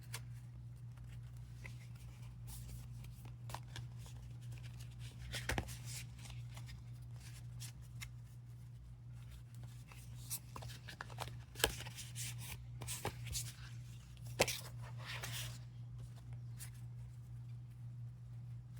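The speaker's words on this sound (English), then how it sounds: "I am going to sort of poorly shuffle these cards together." Paint chip cards shuffled loosely by hand, a close run of soft papery slides and taps with a few sharper flicks over a steady low hum.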